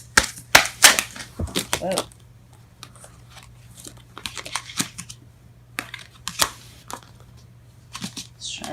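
Tarot cards spill and scatter during a shuffle: a burst of sharp, rapid papery clicks and slaps, close and fairly loud, then scattered lighter taps, over a steady low hum with a brief exclamation from a voice.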